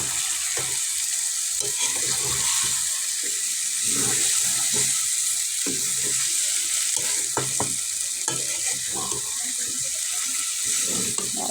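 Fried meat sizzling in masala in a pan, with a constant close hiss and crackle and occasional stirring scrapes, with no one speaking.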